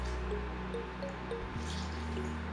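Half a fresh, juicy lemon is squeezed by hand over a pan, juice dripping and trickling in soft, faint drops over a steady low background hum.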